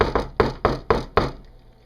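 Six sharp knocks in a quick, fairly even series ring out loud and close, then a quiet tail follows.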